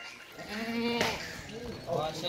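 Goats at a goat farm bleat in a few wavering, nasal calls at close range, with a louder cry near the middle and another toward the end, over a low background murmur.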